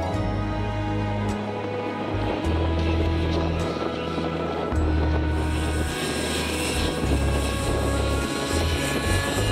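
A small combustion engine drones continuously as a model aircraft flies at an aero model show, the whine rising and falling in pitch as it passes, with outdoor ambience.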